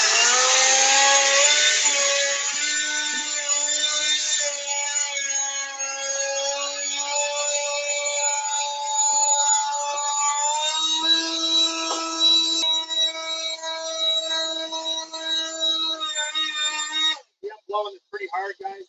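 Leaf blower running hard close by, blasting loose sand off sealed concrete pavers in a steady loud roar that shifts pitch midway and cuts out near the end.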